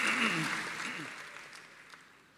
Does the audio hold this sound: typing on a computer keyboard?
no